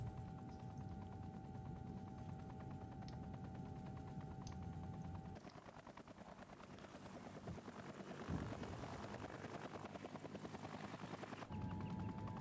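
A helicopter in Entropia Universe drones steadily throughout, its rotor and engine hum constant and moderately loud, shifting in tone partway through with faint thuds mixed in.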